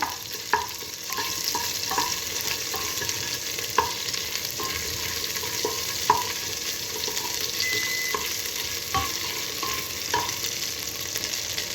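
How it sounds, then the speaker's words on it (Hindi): Ginger garlic paste sautéing in a spoonful of oil for a Hyderabadi mutton marag, a soft steady sizzle with repeated light clinks and scrapes of a stirring spoon against the pan, moderately quiet and without talk. "तेल 1 चमचा मैं अदरक लहसुन का पेस्ट डाली। अदरक लहसुन को अच्छी तरह से सौते कर लेंगे।"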